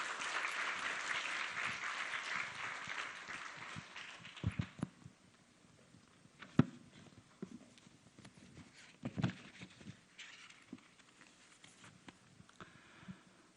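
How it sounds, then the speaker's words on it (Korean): A church congregation applauds to welcome a missionary, a dense burst of clapping for the first few seconds that fades into scattered claps, shuffling and soft thumps in a quiet hall. "박수해 주십시오."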